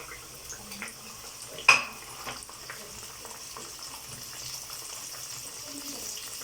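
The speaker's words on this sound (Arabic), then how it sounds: "قطعه من البانيه واحط في الزيت على طول وحته تاني" Breaded chicken cutlets are laid into hot oil, with a sharp clack of a utensil on the pan followed by a soft, steady frying sizzle and occasional light clinks.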